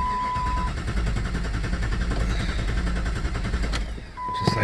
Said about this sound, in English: Got it to crank.